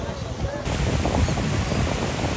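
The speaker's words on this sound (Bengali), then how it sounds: "দেখুন বিকেলবেলা সমুদ্র কি উত্তাল" Rough afternoon surf at Kuakata beach roars as a steady broadband wash, buffeted by wind noise on the microphone, loud and continuous throughout.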